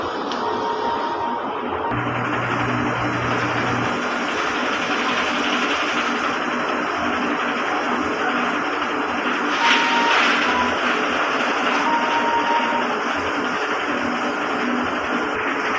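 Steady mechanical whirring and humming from a DTF printer running a head cleaning cycle, with a low motor drone and a brief shift in tone partway through.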